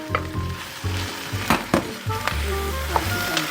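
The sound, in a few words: shrimp added to sizzling pan of cooking vegetables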